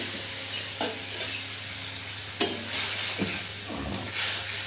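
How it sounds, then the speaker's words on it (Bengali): Mixed spice paste hits hot oil in a pan for broccoli paneer, giving a soft sizzle with a few stirring scrapes and taps over a low steady hum. "তেলটা গরম হয়ে গেছে, এর মধ্যে এই যে মিক্সড মশলা যেটা, সেটা আমি জাস্ট দিয়ে দেবো তেলের উপর।"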